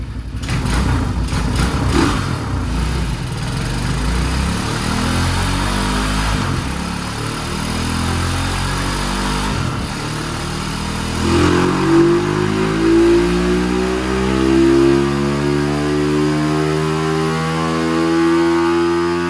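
A Madass 141cc big-bore motorcycle engine revs hard on a dynamometer, its loud, close buzzing note climbing steadily in pitch through a sustained full-throttle pull.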